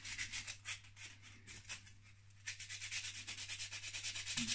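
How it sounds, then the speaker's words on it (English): Sandpaper rubbed by hand on a Fender Player Telecaster guitar during a setup, a series of rhythmic scratchy back-and-forth strokes close to the microphone over a low steady hum. "then we're going to get our sanding paper"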